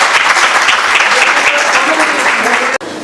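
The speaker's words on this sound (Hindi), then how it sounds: "तो तालियां तो बनती हैं" An audience applauds the chief guests at a speech event honouring Jahangir Siddiqui, founder of JS Group, producing a dense, steady wash of clapping throughout that cuts off briefly near the end.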